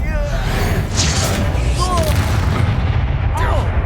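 Confringo fire spell blasts in the Hogwarts Legacy video game, loud booming explosive bursts amid a dense continuous battle din with whooshing magical effects and voices in the mix.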